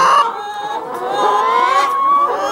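Several chickens in a coop cluck and squawk close by in a busy, continuous chorus with overlapping calls.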